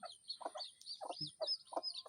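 Domestic desi Sonali hens kept at a house in Udaipur, Tripura, give short, evenly spaced clucks and squawks. Higher chirps run between them, heard nearby at low volume with no voices.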